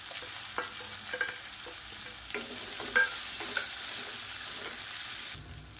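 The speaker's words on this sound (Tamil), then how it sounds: "இப்போ பொடியாக நறுக்குனா வெங்காயம் சேர்த்துக்கலாம்." Finely chopped onion with broken green chillies sizzling and frying in hot oil for a brinjal gravy, a steady crackling sizzle broken by scraping spoon strokes as it is stirred, with no voices.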